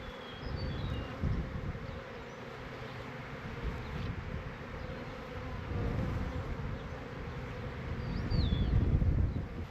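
A large, healthy honeybee colony on a homestead hums in a dense, steady drone, with individual bees buzzing close past now and then and the swell growing louder toward the end.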